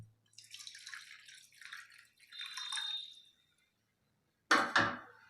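Hot water poured little by little into flour already rubbed with Dalda ghee shortening for a dough, heard as soft splashy dribbles in two stretches, then a short louder splash near the end, with no talk.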